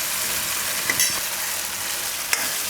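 Chillies and yogurt frying in oil while being stirred, a steady close sizzle with a few brief scraping clicks of the spoon.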